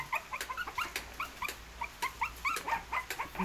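Puppies whimper and yip in a rapid run of short, high, fairly faint cries, many overlapping squeaks at close range with no speech.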